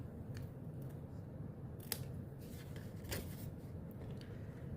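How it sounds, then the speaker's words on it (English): A few sharp scissor snips cutting through card, separated by pauses, over a quiet hum of background noise. "just take the scissors and snip off this edge"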